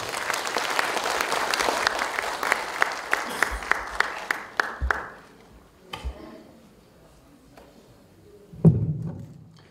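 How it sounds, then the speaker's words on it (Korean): Audience applause at a lantern festival lighting ceremony for a Buddhist celebration in Muan, Korea, swelling into steady clapping with several sharp claps and thumps, then fading to scattered claps and quiet. "큰 박수로 맞이해주시기 바랍니다"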